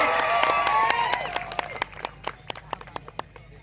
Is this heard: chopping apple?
no